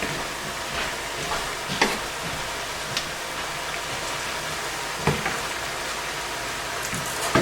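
Shrimp cook in a pan on a stovetop with a diabetes-friendly dinner. A steady, hissing sizzle runs throughout, broken by a few faint clicks and taps.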